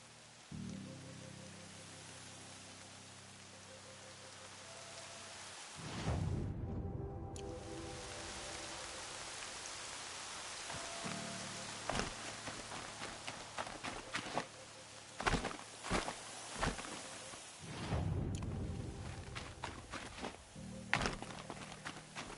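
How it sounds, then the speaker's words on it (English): Rain falls in the video game Horizon Zero Dawn, a soft steady patter under game ambience, broken by swelling whooshes and a run of sharp close thuds and clicks. "Rain's here."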